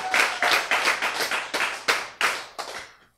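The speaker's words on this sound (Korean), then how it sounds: "박수!" A lecture audience gives a short round of hand clapping, about nine distinct sharp claps in an uneven rhythm, close and clear, tapering off after three seconds.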